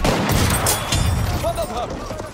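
Enemy machine gun fire in the Battlefield 1 video game crackles in rapid bursts amid battle noise, with voices speaking over the shooting.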